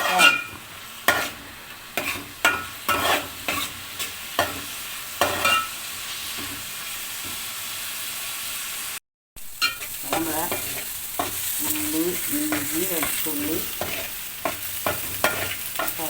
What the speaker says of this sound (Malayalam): ഈ സവാള നമുക്കൊന്ന് നല്ലോണം വരയ്ക്കാം